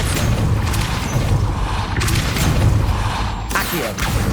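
The Depulso spell goes off in Hogwarts Legacy with a loud, continuous rumbling blast and sharp bursts of impact, backed by a steady roar of game sound.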